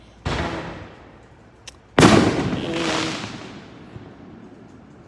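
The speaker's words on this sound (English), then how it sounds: "excuse that, fireworks. It's July 4 pretty soon." Fireworks go off outdoors in the days before July 4: a sharp bang, then a second, louder burst about two seconds later, each trailing into a long crackling, hissing fade.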